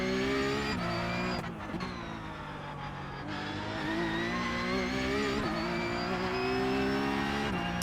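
A race car engine in a sim racing game drones steadily and loud throughout, its pitch rising and dipping with shifts and throttle changes, with no talk over it.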